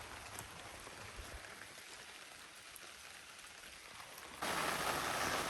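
Steady rain falls on surfaces outdoors in a dense, even hiss that stays moderate, then suddenly grows much heavier and louder for the final second. No voices are heard.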